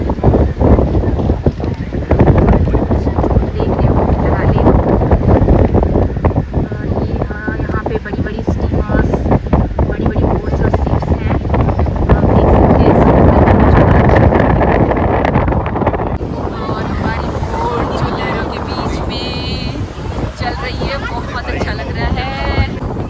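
A boat cuts across choppy sea near Mumbai's Gateway of India, with loud wind buffeting the microphone and water rushing past, all continuous and close; a voice talks intermittently through the noise.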